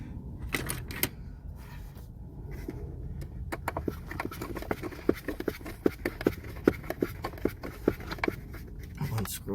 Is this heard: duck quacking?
no